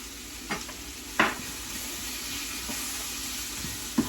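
Vegetables for a vegan hibachi dish cooking down in a pan, giving a steady sizzle broken by a few sharp scrapes and clinks of a utensil, with no one talking.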